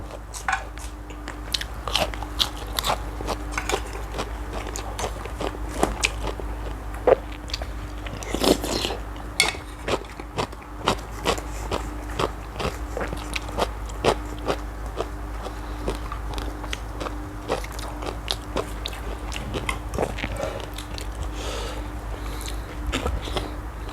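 Close, crunchy bites and chewing of papaya salad with grilled chicken wings, repeated sharp crunches in an uneven rhythm over a low steady background hum, with no talking.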